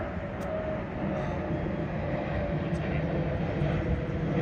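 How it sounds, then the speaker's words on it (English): Airplane passing overhead outdoors, a steady broad roar that holds loud and even throughout, with a voice talking over it. "Airplane right above me."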